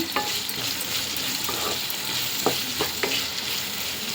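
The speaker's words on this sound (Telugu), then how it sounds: "పసుపు వేసుకుని ఒక్కసారి బాగా కలిపేసుకుందాము" Capsicum with turmeric is stirred in a hot pan, giving a continuous sizzle and frying hiss with a few sharp scraping knocks from the spoon against the pan.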